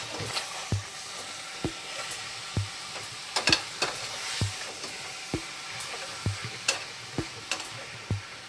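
Mutton pieces being turned in a pan for mutton chukka, a quiet, faint sizzle broken by regular, evenly spaced taps and scrapes of a spoon against the pan.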